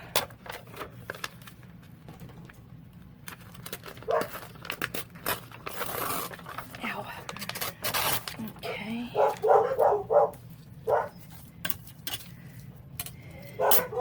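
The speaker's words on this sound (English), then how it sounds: "So they'll be barking for a few minutes." Dogs bark in scattered bursts at a four-wheeler outside, over a noisy indoor background with rustling and clatter, some barks louder and nearer than others.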